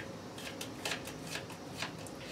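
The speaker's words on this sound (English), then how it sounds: "You'll shuffle them together." Nugget, gem and false alarm cards from the Fool's Gold board game are riffle-shuffled close by with a steady papery flutter and a few sharper snaps, quiet and without voices.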